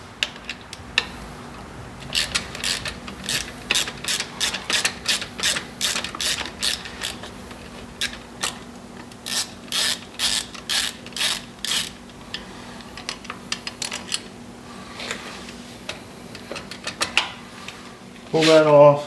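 A 3/16 Allen key works loose the bolt on a bike's heel shifter, giving bursts of quick metallic ratcheting clicks that repeat in short runs with pauses, close up, ending with a brief louder rattle.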